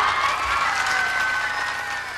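An arena crowd at a 1995 pop concert bursts into applause and cheering to welcome a guest performer, a dense wash of clapping and shouts lasting about two seconds.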